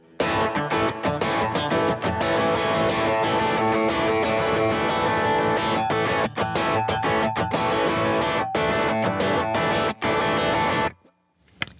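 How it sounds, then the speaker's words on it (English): An electric guitar plays loud, distorted chords for a worship music lesson, steady strumming with brief gaps, while a room reverb effect is switched on and off; the playing stops abruptly near the end. "having just a little bit of a room reverb on, I'll show you kind of how I set that"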